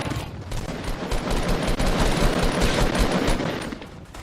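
Sustained assault rifle fire in Fortnite video game, a rapid continuous rattle of shots, loud and close, running for a few seconds before tapering off.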